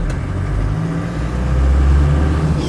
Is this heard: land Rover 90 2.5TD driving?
yes